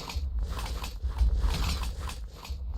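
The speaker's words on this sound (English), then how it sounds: "There's an evoker fang spawner down here." Evoker fang traps fire in a Minecraft modpack: snapping, creaking mechanical bursts repeat in quick succession, like jaws clamping shut over a low rumbling bed, with no voices.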